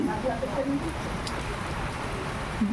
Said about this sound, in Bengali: খুব জোরে বৃষ্টি হচ্ছে না, কিন্তু হচ্ছে হালকার মধ্যে ভালোই হচ্ছে।